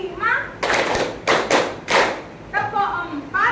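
Several sharp hand claps in a classroom counting game, bursting irregularly between a teacher's sung speech, close and crisp, with children's voices around.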